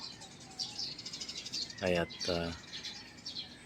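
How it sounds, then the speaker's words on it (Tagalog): Countryside birds in the Philippines keep up a rapid, high chirping throughout, while a voice briefly speaks over them midway, the calls close and steady around the words. "Yung natural na huni ng ibon."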